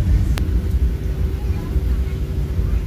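Airliner sitting on the runway, its steady low engine rumble and cabin drone filling the space continuously, with a single sharp click early on.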